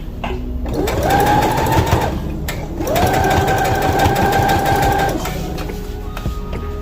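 Sewing machine running a straight stitch on t-shirt fabric, two loud bursts of fast whirring stitching separated by a short pause, close and alone.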